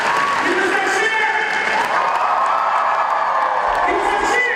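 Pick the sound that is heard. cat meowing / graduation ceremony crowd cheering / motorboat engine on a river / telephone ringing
graduation ceremony crowd cheering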